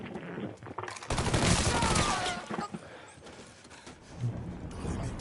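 Bursts of rapid gunfire from the video game Mafia III crackle loudly in dense volleys, followed by scattered shots and game effects.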